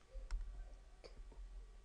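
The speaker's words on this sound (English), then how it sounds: "Let's flip over to our Ti-Nspire CAS and just type in that command" Keys pressed on a Ti-Nspire CAS calculator keypad, a few faint, sharp plastic clicks spaced unevenly over a quiet background hum.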